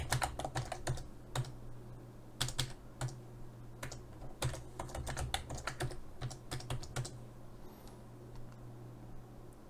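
Password typed on a computer keyboard, a run of crisp close key clicks in quick bursts with brief pauses between them, fairly quiet and with nobody talking.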